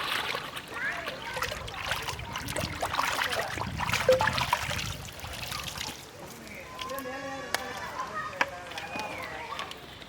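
Close splashing and sloshing as quail are rinsed by hand in a forest stream, the water running continuously throughout, with speech heard over the washing.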